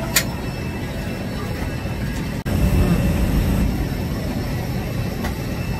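Steady roar inside a Vistara business-class airliner cabin before takeoff from Bengaluru to Chandigarh, a constant broadband engine and air hum that briefly cuts out and returns, with faint voices in the background.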